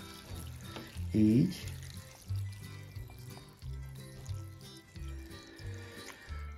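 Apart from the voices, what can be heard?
water poured onto elderflowers for homemade syrup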